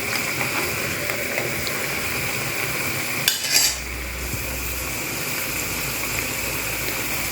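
Crab curry in coconut-milk gravy (ketam masak lemak) bubbles and sizzles steadily in a pot, with one short clatter of a utensil partway through as the gravy is added and stirred.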